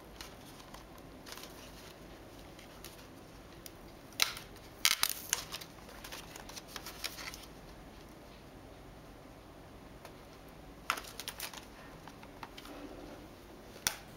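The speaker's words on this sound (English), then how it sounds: "The box opens from the bottom. There are some side tabs and tape that has to be dealt with." A Microsoft Wireless Mobile Mouse 4000 box is opened from the bottom, with quiet cardboard rustles, tape peeling and tabs pulled in scattered bursts of small crackling sounds, close and faint.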